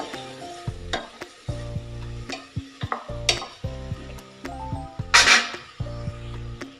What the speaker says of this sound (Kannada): ಇದನ್ನು ಸಹ ಒಮ್ಮೆ ಎಣ್ಣೆ ಜೊತೆ ಮಿಕ್ಸ್ ಮಾಡ್ಕೊಳ್ಳೋಣ.